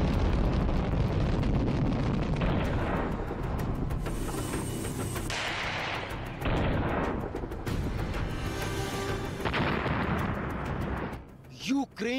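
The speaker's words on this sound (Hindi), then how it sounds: "यूक्रेन की जमीन पर रूस के मिसाइल कहर बनकर टूट रहे हैं।" Russian missile strikes hit in Ukraine, with heavy booming explosions and rumbling bursts that roll on continuously and loudly for several seconds, rough and wind-buffeted, like field recording of a bombardment.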